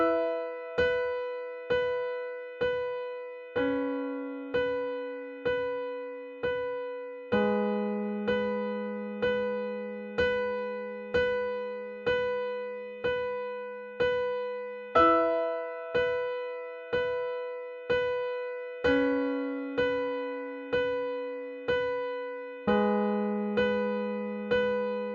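Solo piano playing the repeating chord progression of a song, with steady evenly spaced struck chords and a shifting bass note every few seconds, clear and moderately loud with no voices.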